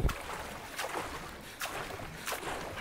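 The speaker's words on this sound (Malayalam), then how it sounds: "വെള്ളത്തിൽ മുതലില്ലെന്നുള്ള വിശ്വാസത്തോടു കൂടി നമ്മൾ നീന്തുകയാണ് വെള്ളത്തിൽ കൂടി" A character swims through water in Far Cry 5, with rhythmic sloshing strokes every second or so over a soft, steady wash of water. The sound is fairly quiet and there are no voices.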